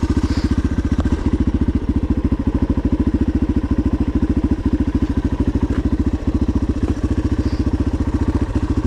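A dirt bike engine idles in gear with a fast, even thumping beat and light mechanical clatter, loud and close, running steadily throughout with no voices.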